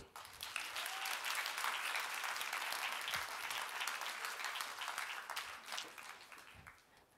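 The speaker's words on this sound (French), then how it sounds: "Applaudissons la troupe" A theatre audience applauds an a cappella troupe of popular songs, a dense, even roll of clapping that swells quickly and holds for several seconds before tapering off.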